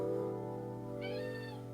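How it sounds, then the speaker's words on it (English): A cat lets out a single drawn-out meow partway through, heard close over a low steady background hum. "If you guys hear meowing in the background, my kitty is right here"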